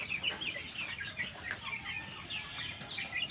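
Tiger chickens with a cold peck at feed mixed with medicine, giving soft, faint clucks and chirpy calls scattered over a few seconds at a little distance, with no talking.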